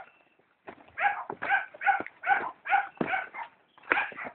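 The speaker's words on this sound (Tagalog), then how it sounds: "Naririnig nila po yung mga tahol ng aso." A dog in a mountain village barks in a rapid run of about eight sharp, clear barks, fairly close and with no other sound.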